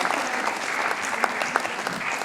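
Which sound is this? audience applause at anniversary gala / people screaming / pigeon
audience applause at anniversary gala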